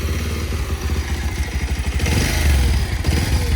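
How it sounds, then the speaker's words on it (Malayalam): A Bajaj Pulsar 150 motorcycle engine runs close by with a steady, throbbing exhaust beat, rising slightly in loudness partway through as it revs. "ഈ ഒരു എൻജിൻ്റെ ഫ്രഷ്നെസ്, സൗണ്ട് ജസ്റ്റ് ഒന്ന് ഏൽപ്പിച്ചു തരാം."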